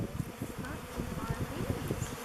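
A good-sized prime honey bee swarm buzzes around a log hive, a dense continuous hum of many wings with rapid pulsing, fairly close and soft, with a voice faintly in the background.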